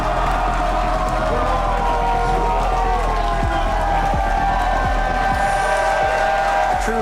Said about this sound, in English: Capacity crowd on hand here inside historic Washington Hall in Seattle